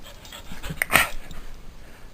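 A dog panting close by in quick, soft breathy puffs, with a brief higher whimpering note in the middle, with no voices.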